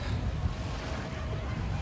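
Sea waves and wind on the beach at JBR in Dubai form a steady, close wash of surf with rumbling wind noise across the microphone, continuous and fairly loud throughout, with no talk.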